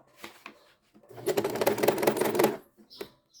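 A sewing machine stitches through fabric or paper in one steady burst of about a second and a half, with softer handling noises before and after.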